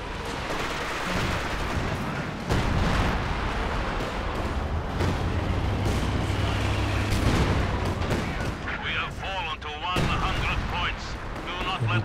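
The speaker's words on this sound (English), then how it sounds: "KV-2 setting up here, looking to float a few shots through the tree line." The KV-2 tank's cannon fires in a World War II video game, heavy booms and rumbling artillery in a dense battle mix, while a commentator talks over it.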